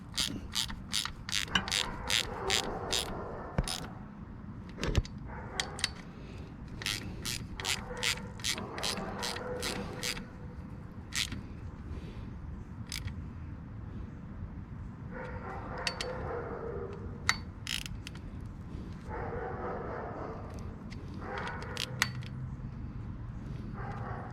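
Ratchet wrench tightening bolts on a 2022 Honda Goldwing DCT motorcycle during an oil and filter change: bursts of rapid, crisp clicking with pauses and occasional metallic clinks, close and clear.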